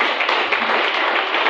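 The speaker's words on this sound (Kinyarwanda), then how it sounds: "Tumukomere amashyi." A church congregation claps together in a dense, steady wave of applause, loud and sustained without pause, with no voices standing out.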